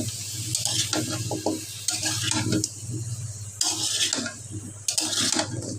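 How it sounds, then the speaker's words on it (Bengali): Stirring pumpkin curry with large prawns in a pan: repeated scraping stir strokes over a steady low sizzle, close and moderately loud, with no talking. "এখন ভালোভাবে নেড়ে নিব"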